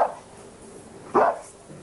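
A Yorkshire terrier gives two short, sharp barks, one at the start and another about a second later, with a quiet gap between them and no talking.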